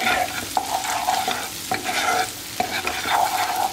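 Dry spices such as red chili powder and turmeric being stirred into kadai paneer masala in a pan, a close sizzling fry broken by repeated spoon scrapes and clacks against the metal, with no voices.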